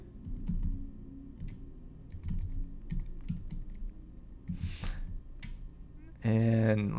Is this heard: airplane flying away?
no